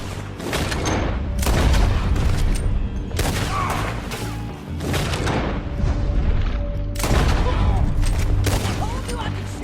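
Heavy gunfire in Red Dead Redemption 2 rings out in loud, repeated bursts of overlapping shots and booming reports during a shootout, with voices talking between the volleys.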